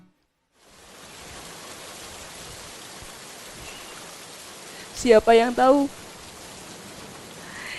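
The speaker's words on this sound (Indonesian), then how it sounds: "Ya, itu suara" Recorded rain plays during a children's church service: a steady, even hiss of rainfall that runs through the clip, with a voice briefly speaking over it near the end.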